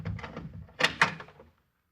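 A door opening in an old-time radio drama, a couple of close wooden thunks and a latch-like clack in quick succession, then sudden silence.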